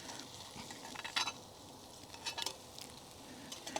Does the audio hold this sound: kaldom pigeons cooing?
no